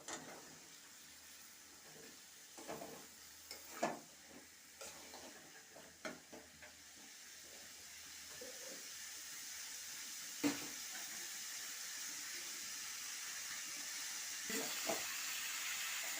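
Sword beans and potatoes tossed into a pan for a prawn chorchori, a faint, steady sizzle with a few soft clinks and stirring scrapes scattered through, fairly quiet and without speech.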